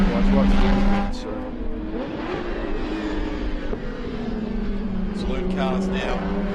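Saloon race cars roar past on the Phillip Island circuit, engines revving loudly as a pack sweeps by, with tire noise and a commentator's voice running over the racing.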